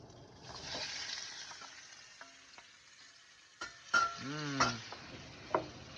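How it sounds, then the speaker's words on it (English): Shrimp frying in a pan for linguine, giving a soft, steady sizzle with a few brief clinks and scrapes near the end; no voices are heard. "Time to fry it now."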